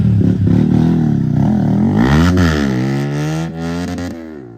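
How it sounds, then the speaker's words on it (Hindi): A motorcycle engine revs loudly up close during a wheelie, its pitch climbing steeply and then holding a high, strained whine before easing off. "ये देखो मेरी बाइक से व्हीली मार रहा है"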